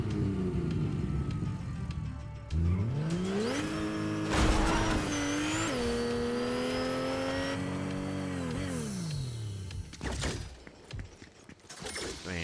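A newer car driven in the video game Fortnite revs up with rising, falling engine pitch, shifting through gears and accelerating steadily for several seconds, loud and close, with brief tire skids near the end.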